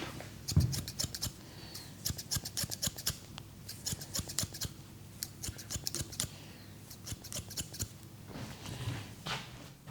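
Scissors cutting short hair during a men's haircut, rapid close snips in quick bursts with short pauses, no talking.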